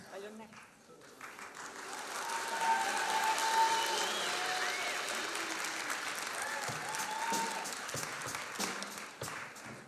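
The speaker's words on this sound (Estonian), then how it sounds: "Ja jälle kollektiivne suur aplaus." A school assembly crowd gives a big collective round of applause, sustained dense clapping that swells and holds for about ten seconds, with a few voices audible beneath it.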